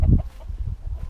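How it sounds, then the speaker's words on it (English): Farm chickens hatched in the fall cluck in a short burst, a few low, close clucks over about a second with no talking. "So this fall we hatched these chickens."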